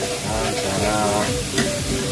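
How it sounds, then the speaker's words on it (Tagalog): Onions sizzle and fry in a pan for beef afritada while being stirred, a dense continuous crackle with scraping stir sounds throughout. "Sunod natin yung sibuyas. Halo-haloin, ganyan-ganyan."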